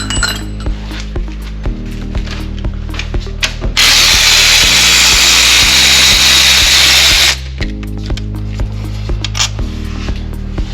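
Power tool backing a starter bolt out of a 1999 Honda Civic Si during transmission removal: a loud steady whir of about three seconds in the middle, framed by clinks and clicks of metal tools handled nearby.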